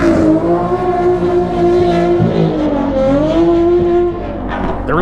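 A lowered car drifts at Myrtle Beach Speedway, its engine droning loud and close with rising and falling revs and tire squeal, continuous for the whole stretch.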